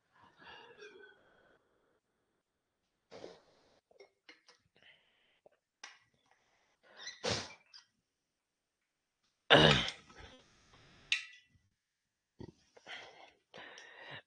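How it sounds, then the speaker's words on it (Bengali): A person coughs and clears their throat in a quiet room, several separate short bursts spread out with silence between them, one louder cough standing out. "জানি না কেন কাশি হচ্ছে বুঝতে পারছি না।"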